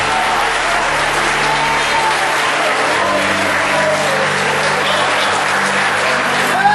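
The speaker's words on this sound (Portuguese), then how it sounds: "Você pode aplaudir o Senhor dando glória." A church congregation at a women's gathering clapping in praise, a thick, steady roar of applause that stays loud and even throughout, with faint voices mixed in.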